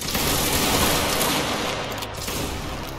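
Musket volley fire in a video game, a dense crackling fusillade from many guns firing together, sustained and rolling at a moderate distance with no voices.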